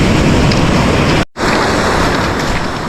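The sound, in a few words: big ocean waves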